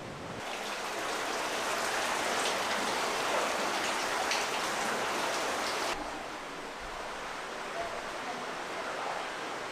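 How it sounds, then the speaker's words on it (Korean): Rain falls steadily in Pyeongchang, Gangwon, as a dense, even hiss of drops. The rain is fairly loud at first, then turns slightly softer and duller partway through, and continues without any talking. "비가 내리면 땅속으로 스며든 빗물이 물줄기를 만들죠."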